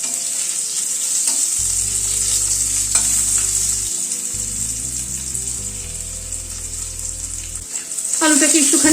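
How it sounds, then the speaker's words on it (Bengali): Boiled potatoes frying in oil with asafoetida, cumin and bay leaf give a loud, steady sizzle with occasional stirring knocks and a low background hum. "আলুটাকে একটুখানি ভেজে নেব আগে।"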